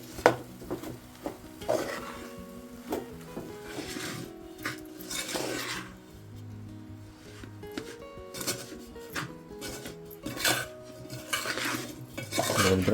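A spoon scrapes and clanks around a pot as a rice laddu mixture is stirred, giving irregular metallic knocks and rubbing strokes at close range, with no talk.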